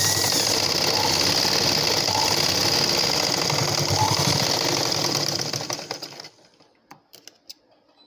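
A sewing machine stitches blouse darts in a steady, loud mechanical whir with a rapid needle clatter, running continuously before winding down into a few faint clicks.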